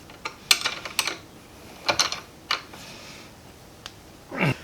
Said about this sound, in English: You will thread that bolt on and then put the nut on the back